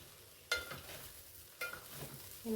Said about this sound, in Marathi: तर असे छान ना मिक्स करून घ्यायचं मीठ वगैरे घातलं ना ते छान असं मिक्स झालं पाहिजे व्यवस्थित